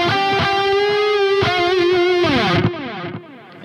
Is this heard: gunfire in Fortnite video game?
no